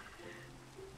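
Rain falls steadily in a Minecraft world, a soft, even hiss of drops running through the whole short stretch with no voices over it.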